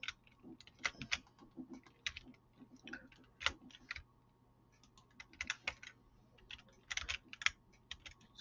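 Someone types on a computer keyboard in an irregular clatter of light clicks in bursts with short pauses, close and quiet, with no talking.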